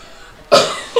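Brief silence broken by a woman's sharp, close cough, followed by a smaller second cough a moment later.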